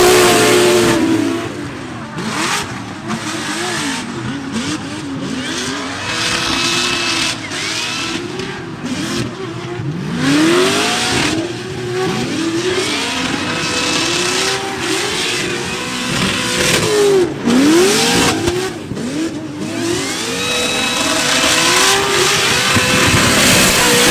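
A 1,000-wheel-horsepower drag car roars loudly at close range, its engine revving and rising in pitch through repeated hard acceleration sweeps, with continuous high-intensity exhaust noise throughout.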